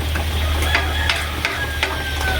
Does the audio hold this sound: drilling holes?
no